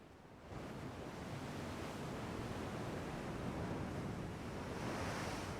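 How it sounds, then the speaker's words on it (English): Heavy ocean waves surge and wash over the deck of the USS Constitution, a steady loud roar of surf and spray with wind noise, continuous throughout and no voices. "now the waves are even starting to go over the"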